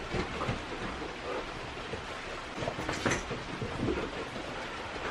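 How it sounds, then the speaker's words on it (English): Steady rain falling outside, a dense continuous hiss with scattered heavier patters, close and constant for the whole stretch, no voices. "It's still raining."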